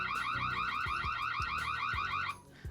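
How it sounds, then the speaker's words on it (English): A Xiaomi IMILAB video doorbell sounds its police alarm: a loud, continuous warbling siren tone that cycles rapidly and steadily, then cuts off abruptly near the end. "That's the police alarm."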